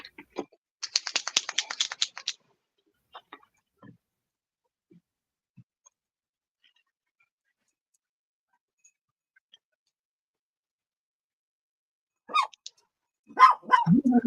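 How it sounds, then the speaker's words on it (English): Dogs bark indoors at home during a stamping and journaling craft session: a quick cluster of sharp barks early on, a long quiet stretch with faint taps, then a few more close, loud barks near the end. "my dogs get barking"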